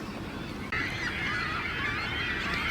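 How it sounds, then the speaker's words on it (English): Geese honk and squawk continuously in a noisy, overlapping chorus, with a brief dip before the calls grow louder and denser. "You just hear the endless squawking."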